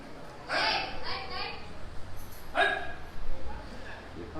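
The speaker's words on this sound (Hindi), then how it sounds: "देखो कुत्ता आ गया" A dog barking during a morning gathering in Mathura: two or three loud, sharp bark bursts, the first a quick cluster and the second a single yelp, with voices murmuring around them.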